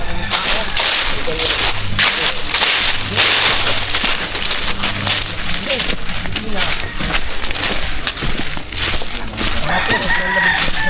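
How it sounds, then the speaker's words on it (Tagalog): A crowd of chickens in Batangas, Philippines clucks and crows over a busy outdoor background, the birds' calls overlapping close and loud while people talk throughout. "Daming manok ni sir."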